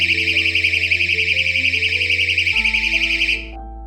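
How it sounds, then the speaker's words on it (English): Battery-powered door stop alarm wedged under a door, emitting a loud, continuous warbling electronic shriek that holds steady for several seconds before cutting off, with a low hum running underneath. "It stops the door from being pushed open and sounds the alarm."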